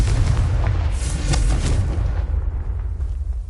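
An explosive blasting curse goes off in a Harry Potter video game: a loud, continuous booming roar with crackling bursts layered on top. It stays heavy and sustained throughout.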